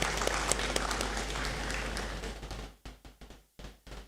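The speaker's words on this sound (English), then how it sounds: "Please, let's give him another round of applause." At a university graduation ceremony in a great hall, audience applause fills the room and then thins out into a few scattered, dwindling claps and brief bursts before stopping.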